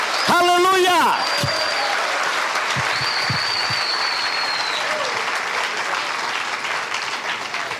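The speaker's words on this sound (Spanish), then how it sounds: "Démele un fuerte aplauso al Rey de Reyes" A church congregation breaks into loud, sustained applause for the King of Kings during a sermon, with a voice shouting over the first second before the clapping carries on alone.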